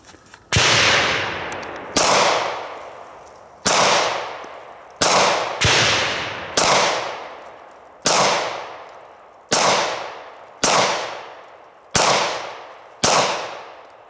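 Ruger SR1911 9mm pistol fired ten times at a range, each sharp loud crack decaying quickly, spaced about one to one and a half seconds apart with no talk.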